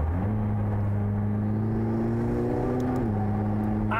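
A McLaren 675LT supercar accelerates, its engine note rising steadily in pitch through a gear, then dropping briefly at the shift, loud and continuous with no talk.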